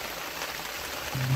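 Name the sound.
heavy rain falling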